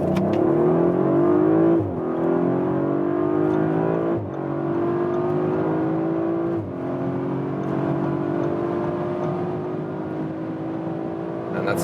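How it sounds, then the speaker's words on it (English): An Audi RS5 accelerating hard from about 30 to 200 km/h, its engine note rising steadily through three gear changes, each marked by a brief dip before the revs climb again, loud and close from inside the cabin. "We'll start here about 30 kilometers an hour and accelerate it out."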